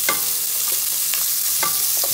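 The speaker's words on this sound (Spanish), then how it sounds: "Aquí tenemos que guisar la cebolla y el ajo" Onion and garlic frying in butter in a pan, a steady loud sizzle with a few scattered stirring scrapes on top, close and without talk.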